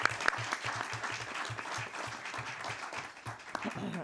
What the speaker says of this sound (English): So one more round of applause for our LBJ Jaguars.